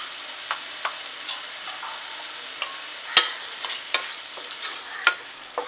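Chicken curry simmers and is stirred in a pan, with a steady close sizzle and a string of sharp spoon scrapes and clinks against the metal, no voices.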